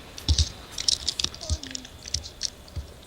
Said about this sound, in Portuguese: tô ouvindo barulho de teclado pra caramba aí